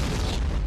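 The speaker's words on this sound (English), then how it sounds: "The tank didn't blow up, but it certainly took a direct hit." A tank taking a direct hit in a Saving Private Ryan war scene, heard as a loud, dense, rumbling blast that fills the whole short moment.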